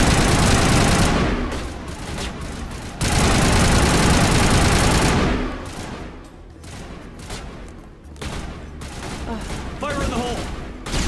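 Rapid automatic gunfire from an overheating weapon in the video game Mass Effect rattles loudly in dense, sustained bursts, then breaks into shorter volleys, with brief voices near the end.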